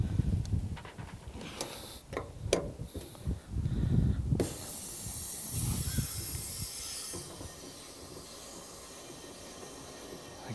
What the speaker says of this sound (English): I can hear the gas going into the unit